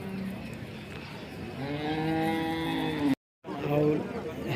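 Holstein Friesian cows at a Sunday cattle market in Chintamani give a long, loud, nearby moo. After a brief gap a second moo begins, and voices murmur in the background.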